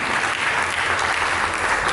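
An Indonesian church congregation gives a round of applause during a sermon, a sustained, even roar of many people clapping at once, moderately loud and continuous without pause.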